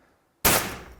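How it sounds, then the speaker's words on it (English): A nail gun fires into a framing board at a door rough opening: one sharp, loud crack after a moment of silence, then a short decaying tail. "shoot a couple nails at an angle"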